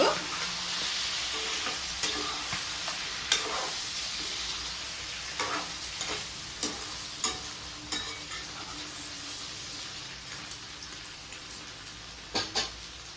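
Chicken frying in a non-stick pan over a flame, a steady broadband sizzle with scattered stirring scrapes and pops throughout, close and fairly quiet, no talking.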